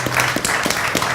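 Brief burst of audience applause, a short, fairly loud patter of clapping lasting about a second.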